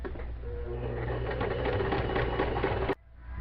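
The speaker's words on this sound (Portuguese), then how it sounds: "É aquela história de costura sempre devagar, né? Tô usando ponto largo também, por conta do plástico." A sewing machine runs slowly with a wide stitch through plastic fabric, giving a steady close whirring hum with a faint rhythmic clatter that stops abruptly near the end.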